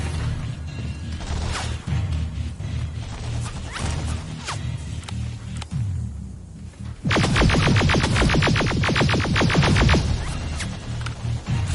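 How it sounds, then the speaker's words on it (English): A flamethrower fires in the video game Terminator Resistance, a dense roaring burst that cuts in sharply partway through and holds loud and close to the end, after a stretch of scattered impacts and crashes. "Whoa! Flamethrower!"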